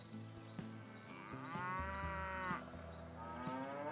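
A cow moos in one long, drawn-out low call, rising and falling, with clicks and faint background noise around it.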